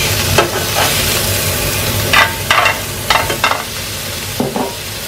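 Spinach is stirred and scraped out of a hot buttered pan: a low steady sizzle runs underneath while sharp bursts of utensil scraping and clinks come in irregular clusters, close and clear.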